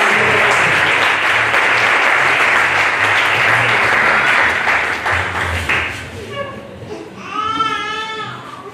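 Loud, sustained applause from a church congregation at a baptism and disciples' graduation ceremony fills the space, gradually thinning toward the end, when a voice speaks over the fading clapping.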